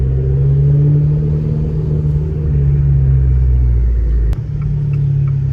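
Audi RS8 engine running loud and close, a deep steady rumble with a slight rise in pitch, a brief sharp click near the end, no voices.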